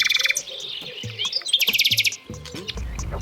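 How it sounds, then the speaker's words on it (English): A nightingale sings alone in bursts of rapid, bright trills and whistled phrases, loud and close, with brief pauses between phrases. "Nightingale"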